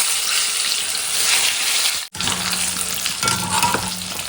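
Cashew nuts frying in hot oil, a steady crackling sizzle with stirring that cuts off briefly, then resumes with a lighter bubbling hiss.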